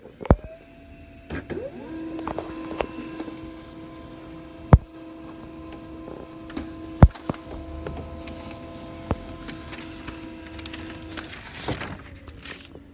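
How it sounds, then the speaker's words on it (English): An HP Laser MFP printer with a replaced main board prints a page, giving a steady electrical hum with faint mechanical whirring and a few sharp clicks, alone without talk. "So now the printer is working."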